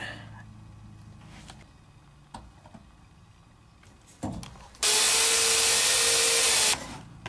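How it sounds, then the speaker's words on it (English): A power drill whines loudly and steadily for about two seconds drilling a hole for a seat belt in a 1947–1955 Chevy truck, standing out sharply after quieter handling noises and brief bumps. "So we will mark the hole right there and drill it"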